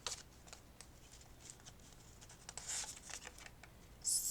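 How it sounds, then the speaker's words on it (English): Tarot cards are shuffled by hand in a quiet room, with soft, close riffling and shuffling strokes in uneven bursts and a louder riffle at the end. "Sometimes I just sit here and shuffle"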